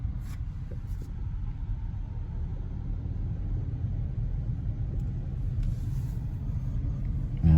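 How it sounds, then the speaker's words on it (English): Small monster trucks at an outdoor rally give a steady low engine rumble, fairly loud and continuous, with faint crowd noise in the background. "Looks like you got a monster truck, small monster truck rally here."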